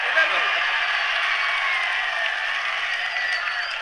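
Thin, subdued clapping from an audience at a mushaira, a light steady patter lasting a few seconds without much force.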